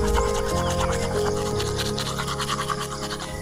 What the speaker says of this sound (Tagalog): Toothbrush muna.